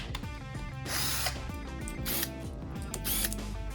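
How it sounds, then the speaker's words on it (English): A power drill whirs in bursts with ratcheting clicks as bolts are driven back in during an oil change on a Honda Big Red 250es, loud and close, with metallic clatter between runs. "do not use a power drill to put your bolts back in"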